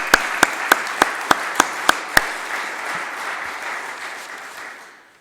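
Audience applause at an award ceremony, a few strong near claps punctuating a full crowd clapping that holds steady for several seconds before tapering off at the end.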